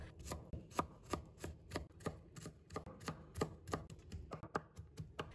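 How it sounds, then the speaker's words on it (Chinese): A knife chopping garlic into mince on a board, a steady run of quick, crisp, close chops at an even rhythm with no talk. "我们再准备1把大蒜，把它切成片。 然后把它切成末"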